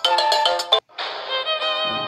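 A bright electronic Facebook Messenger ringtone plays a short repeating melody, pauses briefly, then continues with a sustained chiming tone, close and clear with no talking.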